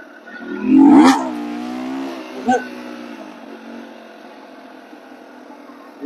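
A Daelim Roadwin 125 motorcycle engine gives one short rising rev that falls back to a low idle, close by, followed by a brief blip.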